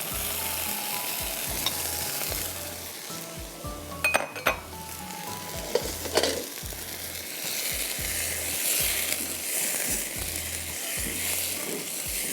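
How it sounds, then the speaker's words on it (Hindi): Sliced tomatoes and onions fry in a pan with a steady close sizzle, broken by a few sharp clinks and scrapes of a utensil against the metal partway through. "प्याज के बाद हम इसमें टमाटर डाल देते हैं ताकि वो गलने पे आ जाएं।"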